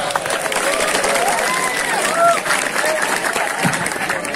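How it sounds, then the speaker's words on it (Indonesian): An audience at a Quran study gathering applauds, a steady wash of clapping from a crowd with voices talking and calling out over it. "Tepuk tangan dulu dong."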